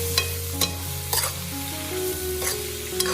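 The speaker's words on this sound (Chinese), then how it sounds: "快速翻炒均匀" Lamb pieces being stir-fried with spices and vinegar in a hot pan, a continuous sizzle broken by several sharp scraping strokes of the spatula at irregular intervals, close and loud with no voices.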